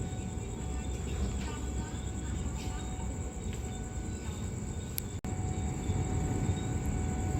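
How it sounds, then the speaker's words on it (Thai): Diesel ordinary train no. 276 pulling into Hua Mak station, a steady broad rumble of engine and rolling wagons heard continuously with a persistent high whine, fairly distant and even, one brief clunk near the end. "มาดูขบวนธรรมดาที่ 276 ค่ะ ด่านพรมแดนบ้านคลองลึก ตอนนี้กำลังจะเข้าสู่สถานีหัวหมาก"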